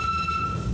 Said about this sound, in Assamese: লগতে ট্ৰেইনো চলি আছে